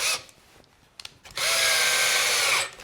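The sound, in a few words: power drill driving stainless steel screws into saddle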